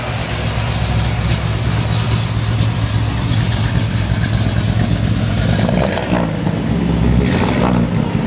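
A Chevrolet Impala engine with a 4-barrel Holley carburetor runs cold at a steady, loud idle, close and unbroken, with a slight shift in tone toward the end.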